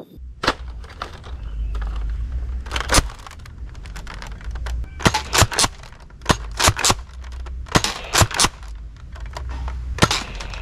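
A Nerf Double Dealer toy blaster fires at close range. Sharp, snappy shots come in irregular clusters, some singly and some in quick pairs, over a low steady hum.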